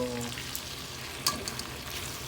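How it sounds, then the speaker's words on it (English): Garlic shrimp frying in butter in a pan, stirred: a steady soft sizzle runs throughout with a brief louder scrape or clatter of the utensil partway through, fairly close and with no talking. "Just stir our shrimp so"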